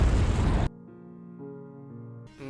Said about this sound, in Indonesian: Kemudian bom meledak dan membunuh Batman dan Coulson.